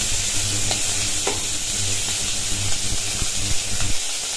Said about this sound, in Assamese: মাছখিনি ইয়াত আধা ভজা কৰি উলিয়াই থ'ম